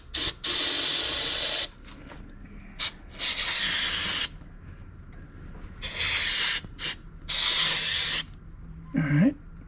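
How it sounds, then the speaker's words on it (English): Red tacky grease sprayed from a can into an outboard motor's tilt tube, a series of loud close hissing bursts of a second or two each, separated by short pauses. "to put some red tacky grease in the tilt tube"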